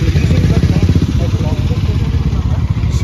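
A motorcycle fitted with a modified, aftermarket exhaust rumbles close by with a deep, loud, throbbing idle that pulses steadily for about three seconds, with voices mixed in underneath.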